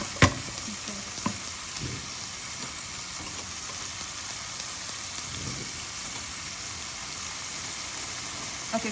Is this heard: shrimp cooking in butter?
yes